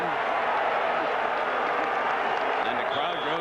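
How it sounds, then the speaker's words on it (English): Restless stadium crowd at a 1998 Michigan State vs Michigan college football game, a steady, loud murmur of thousands of fans filling the air without any distinct cheer or break. "And the crowd grows restless at that."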